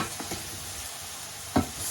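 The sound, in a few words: stirring couscous and frozen veg in a pan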